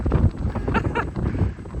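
Low rumbling wind buffets the microphone throughout, with gusty fluctuations and a faint voice-like murmur underneath.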